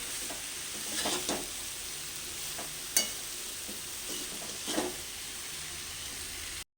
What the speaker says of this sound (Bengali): ভালো করে লাউটা দিয়ে এবার কষতে হবে